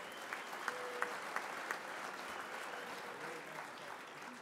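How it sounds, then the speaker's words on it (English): Baseball fans at a Detroit Tigers ballpark event applaud in a sustained, distant wash of clapping with a few sharper claps standing out early on, steady throughout. "Give yourselves a round of applause."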